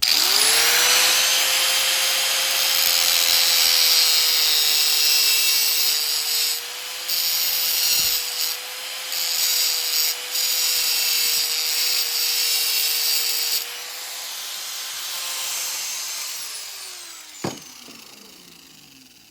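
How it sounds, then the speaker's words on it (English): A cheap cutoff wheel grinds into a sheet metal weld on a VZ-61 upper, giving a loud steady high whine with a sustained tone. Brief dips break it before it cuts off near the end. "I'm gonna grind right there."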